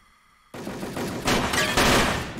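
Gunfire from a weapon in a shooter video game breaks out abruptly as loud, dense bursts of rapid shots that swell in waves over the rest of the clip.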